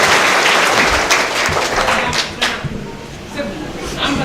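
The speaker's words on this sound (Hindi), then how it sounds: "उठाकर तालियां बजाएंगे।" Audience at a Hindi kavi sammelan poetry event in Mumbai claps loudly and steadily, a dense wash of applause that thins slightly midway, with some murmured crowd chatter underneath.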